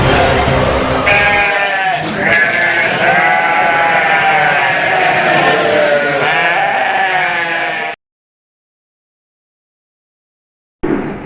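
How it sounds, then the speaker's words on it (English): Merino sheep bleat loudly and close by on a commercial sheep farm, a few long wavering cries overlapping for several seconds before a sudden cutoff into silence and a brief return. "This is the first commercialized sheep farm that we have ever seen."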